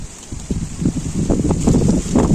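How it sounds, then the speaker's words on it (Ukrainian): Loud gusts of wind buffet the microphone in low, rumbling bursts that build and swell over a couple of seconds. "У нас сьогодні вітер."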